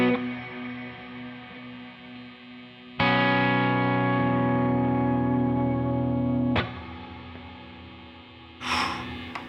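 Electric guitar played through a CXM 1978 reverb pedal, sustained chords ringing with a long smooth reverb tail, a new chord struck partway, then fading with a brief noisy scrape at the end.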